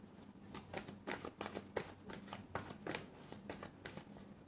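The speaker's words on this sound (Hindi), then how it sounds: "सॉरी, एक शफल और करेंगे।" Tarot cards shuffled by hand during a weekly Aquarius reading, a steady run of soft riffling slaps and papery flutters repeating close up throughout, with no talking.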